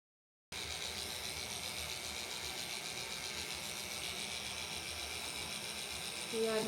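Continuous close buzzing whir of dog grooming clippers trimming a puppy's coarse whiskers, steady and fairly loud with no speech over it.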